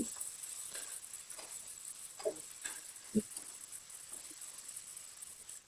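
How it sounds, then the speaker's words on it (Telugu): Ginger garlic paste frying with onions in a pan while cooking bagara rice, a steady soft hiss with a few scattered louder pops and stirring taps, close and alone. "అల్లం వెల్లుల్లి పేస్ట్ పచ్చి వాసన అంతా పోయే వరకు కొద్దిగా ఫ్రై చేసుకోవాలి"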